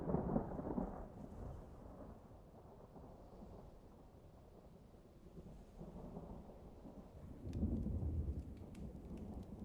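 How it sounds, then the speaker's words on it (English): Deep rolling thunder rumbles through steady rain, swelling loudly at the start and again near the end, with a soft rain hiss continuing in between and no voices. "Sounds like thunder."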